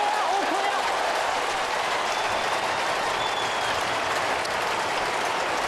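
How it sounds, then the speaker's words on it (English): Melbourne fans at a 2008 Australian football match against Fremantle let out a sustained mocking cheer, a dense, loud crowd roar that fills the stadium with a commentator's voice running underneath. "There was an enormous Bronx cheer then from the Melbourne fans when Melbourne actually kicked the ball."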